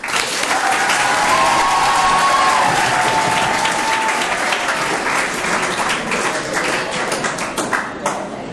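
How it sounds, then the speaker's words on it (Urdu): An audience at a school ceremony bursts into loud, sustained applause for young pupils, dense clapping that holds steady and then thins slightly, with a voice briefly audible underneath. "تالیاں۔"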